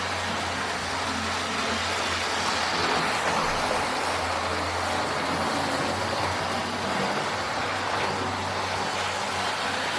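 Lima Class 55 Deltic model locomotive running around a track, a steady close whirring motor hum with a continuous rolling rattle, unbroken throughout.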